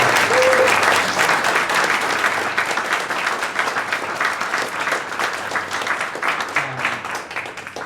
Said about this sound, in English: can we please give a huge round of applause for Misfit Labs